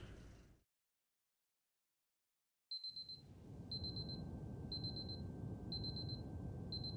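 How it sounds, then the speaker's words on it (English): Alarm clock ringing in the Superliminal video game, a steady series of short high electronic beeps repeating about once per second over a constant low hum, after a brief silence. "So an alarm woke me up"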